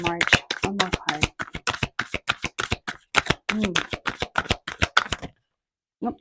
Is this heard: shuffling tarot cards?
yes